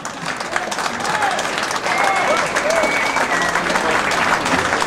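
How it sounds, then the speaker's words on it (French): Steady crowd applause at a ceremony of a Vaud bread guild in Yverdon, continuous clapping from many hands that grows slightly louder midway, with faint voices mixed in. "Des applaudissements."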